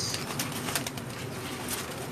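Pigeons on a rooftop loft in Jeddah, Saudi Arabia, soft cooing and occasional wing flutters, faint and steady, with no voices.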